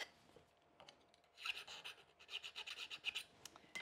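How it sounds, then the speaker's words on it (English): A hand file rasps at the holes in metal pieces being opened up slightly before pop riveting, with faint scrapes at first, then a run of close, quick strokes in the second half. "we're going to just file those a little bit to just open them up"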